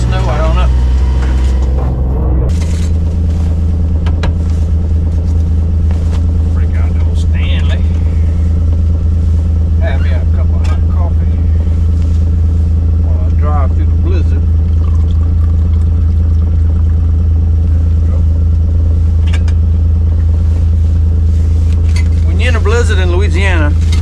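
A truck drives through snow during a Louisiana blizzard with four-wheel drive engaged. Its low engine drone holds steady the whole time, with occasional voices and small rattles on top.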